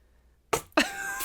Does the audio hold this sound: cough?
yes